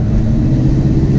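A 1969 Plymouth Road Runner with 3-inch Flowmaster exhaust idling or cruising, a loud, steady, deep engine rumble heard close and alone.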